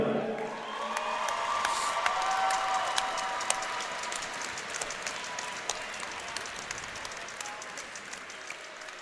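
Sustained applause and scattered cheers from a packed sellout arena crowd at an ice hockey bronze medal ceremony, steady and moderately loud across the whole stretch with occasional whoops over the clapping.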